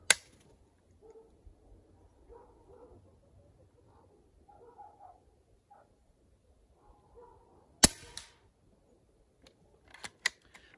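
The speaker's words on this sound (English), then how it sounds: "I'm gonna take some shots on target and we'll see if we can put two into the gel." Sharp, isolated cracks from a .22 air rifle firing Barracuda Hunter Extreme pellets, one near the start and another after a long quiet stretch, followed by a few smaller snaps, with faint handling sounds between.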